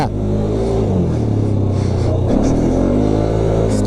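A Can-Am Outlander 450 ATV engine runs while trail riding over snow, ice and mud, a loud, steady close-up rumble with small rises and dips in revs as the throttle changes.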